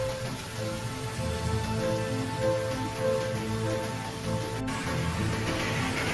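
Steady, dense rain pours down on Tokyo with a constant hiss, while faint tonal music plays underneath.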